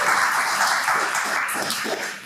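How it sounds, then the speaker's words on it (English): Audience applause at a live comedy performance, a dense wash of clapping filling the short stretch, fairly loud and steady before tapering slightly at the end. "Let's just give them a round of applause!"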